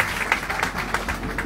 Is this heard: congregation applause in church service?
yes